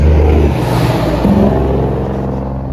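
Loud truck rumbling past at a Kansas roadside, a heavy low engine drone that is strongest at the start and eases away slowly, alone with no talk.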